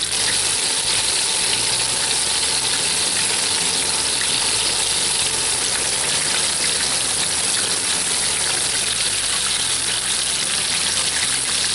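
Chicken tender strips frying in oil in a cast iron pan, a loud, continuous sizzle with dense popping and bubbling, close and steady throughout.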